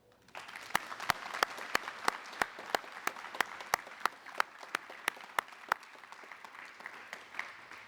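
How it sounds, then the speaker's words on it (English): Audience applause at a military garrison change-of-responsibility ceremony, heard as a steady wash of clapping with sharp, evenly spaced loud claps standing out near the microphone throughout. "please join me in a round of applause"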